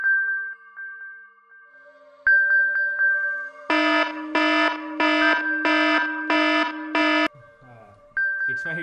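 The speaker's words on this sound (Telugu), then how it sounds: "It's my go to sleep alarm." A phone's go-to-sleep alarm ringing with repeated electronic tones, first as thin beeps and then as a loud pulsing run of six evenly spaced bursts before the softer beeping returns.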